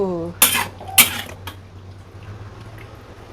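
Cutlery and a plate clatter twice in quick succession as cooked blendrang and omelette are served, then a faint hum follows, with a voice briefly at the start.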